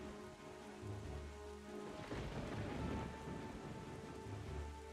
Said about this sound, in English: Ah, this stormingest of stormy storms.